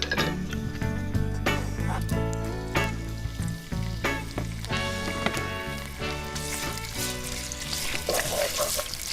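Anchovies sizzle and break down in hot oil in a pan, a steady crackling fry with occasional clinks and stirring sounds. No one speaks.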